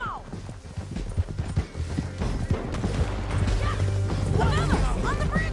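Hooves clip-clop on horseback in Red Dead Redemption 2 during a frantic escape, mixed with crashes, game effects and characters talking over the ride.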